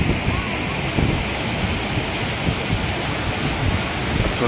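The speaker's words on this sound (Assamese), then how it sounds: "ইয়াত ধুনীয়াকৈ ৱাটাৰফল" A natural waterfall at Cherrapunji, Meghalaya, roars steadily and loudly, a dense unbroken rush of falling water filling the whole clip.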